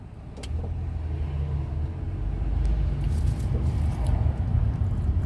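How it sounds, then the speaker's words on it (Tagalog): Heavy road traffic is close by. Car engines rumble and idle, and vehicles pass in a continuous low drone that grows slightly louder toward the end, with no voices. "Traffic, grabing traffic ngayon."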